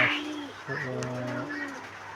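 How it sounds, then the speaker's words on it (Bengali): Fancy pigeons kept in breeding pairs coo from a loft, with a steady low, throaty cooing that runs through the whole moment at close range. "অনেক কবুতর আছে পঁচিশ ত্রিশ জোড়ার মতো"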